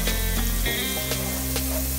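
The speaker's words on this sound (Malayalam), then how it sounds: "ഇനി നന്നായിട്ട് വഴറ്റി കൊടുക്കാം" Shallots and crushed chili sauté in hot oil in a pan for a breadfruit stir fry, a steady close sizzle with faint stirring scrapes.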